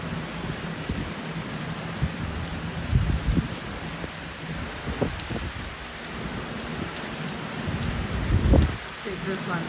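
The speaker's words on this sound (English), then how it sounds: "The raindrops direction is towards me." Steady rain falls in Ottawa, Canada, a continuous near hiss of drops with a few louder splashes and thumps around three and eight and a half seconds, no voices.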